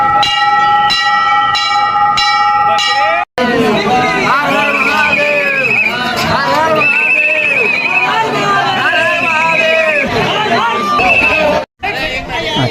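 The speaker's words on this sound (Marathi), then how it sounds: "देवाचा घंटा वाजवत आहे" A temple bell at Mahakal temple in Ujjain rings in a quick series of bright metallic strikes, followed by a loud crowd of chattering voices close by.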